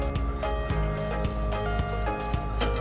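A whisk scrapes and clicks in a metal pot as sugar dissolves over low heat for crème brûlée, with steady rhythmic strokes and faint sizzling underneath, close and moderately loud.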